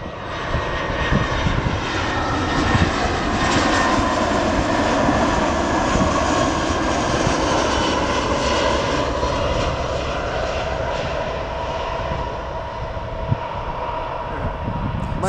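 A small plane passes at Vancouver airport, its engine a loud, broad, continuous roar that holds steady for about fifteen seconds with no talk over it.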